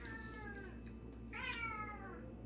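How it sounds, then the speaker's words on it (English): A pet cat named Chunky meows twice indoors, a drawn-out call followed by a louder, rising one, close and clear over a quiet room. "Okay, sorry, that's my cat, Chunky."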